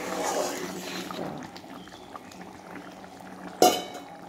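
Rice and mung dal simmer in a pot with a faint, steady bubbling hiss, and a single sharp utensil clink sounds near the end.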